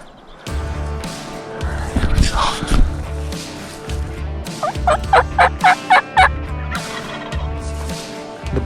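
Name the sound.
wild turkeys gobbling during a turkey hunt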